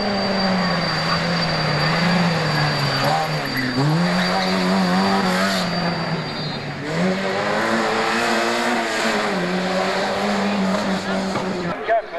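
A Volkswagen Golf GT rally car with a 1.6 engine racing on a stage rally, its engine note rising and falling through repeated acceleration and gear changes, loud and close, with a commentator talking over it.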